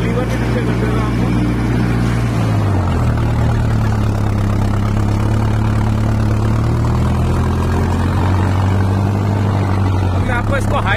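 Mahindra Arjun Novo 605 tractor working a rotavator, its heavy diesel engine drumming loudly and continuously with a deep, steady pitch that dips and recovers under load.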